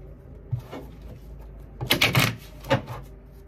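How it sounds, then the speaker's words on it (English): Tarot cards being shuffled by hand, heard as a few soft, papery riffling bursts, the longest in the middle, all close and fairly quiet. "we have, shuffle this up"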